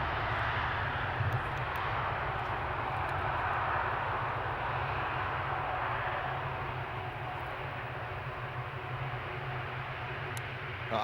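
A Boeing 777 airliner on the runway at Amsterdam Schiphol gives a continuous, loud jet engine roar that holds steady throughout, broad and rumbling, heard from a distance with no talking.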